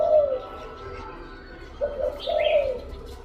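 A pet dove coos nearby in short, soft, resonant phrases, one early call and then a pair of coos near the end, with a faint higher chirp mixed in over a low background hum.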